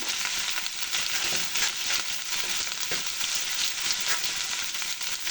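Fish fries hard in hot oil with green chillies just added, giving a continuous close sizzle and crackle with soft stirring, and no voices.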